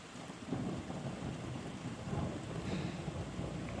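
Heavy rain pours steadily through a severe thunderstorm, with low rolling thunder swelling and fading across the whole stretch, loud and close with no voices.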